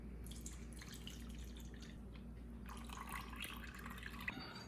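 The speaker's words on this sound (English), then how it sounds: "first we are going to put the milks in the bowl." Evaporated milk pours from a can into a large mixing bowl, a soft steady liquid trickle with faint drips that carries on throughout, close by and fairly quiet against a low background hum.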